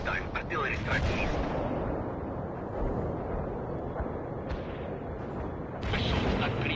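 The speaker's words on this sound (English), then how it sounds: "Artillery strike east." Artillery strike in the Cold War strategy game World in Conflict: Soviet Assault, with heavy, rumbling blasts and dense battlefield noise that fill the whole stretch, loud and close, with sharper crack-like impacts at the start and end.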